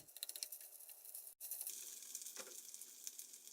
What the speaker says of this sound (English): Fry the rice.